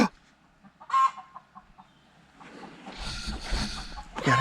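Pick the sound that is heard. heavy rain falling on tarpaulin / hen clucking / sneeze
hen clucking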